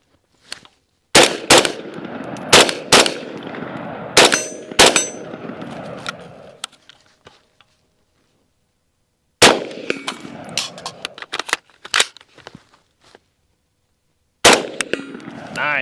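Mark 18 rifle with an Elcan optic fires at steel targets during a night drill, sharp shots in quick bursts of two with ringing clangs, a pause for a reload, then more paired shots, loud and close.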